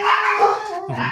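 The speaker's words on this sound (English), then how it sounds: "My dogs." Dogs bark and yip at close range in a brief, loud burst of overlapping, tonal cries with no talking over them.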